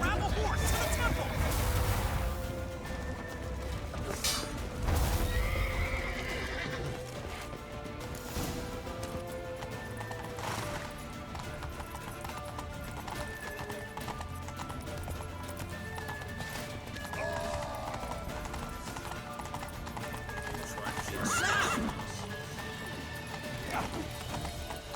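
Horse hooves clatter in a gallop with occasional whinnies in The Witcher 3: Wild Hunt, amid crashing effects and music, with people shouting over the action.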